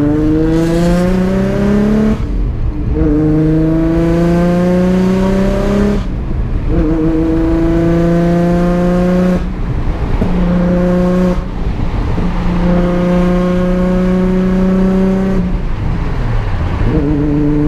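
A cammed Nissan 350Z engine that is not running right, revved hard repeatedly: loud, close rising wails, each climb cut off sharply before the next, with a choppy idle between pulls.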